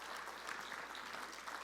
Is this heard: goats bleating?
no